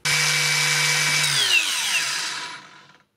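A HiKoki 36V cordless angle grinder runs loud and close with a steady high motor whine, then spins down and fades out over the last couple of seconds.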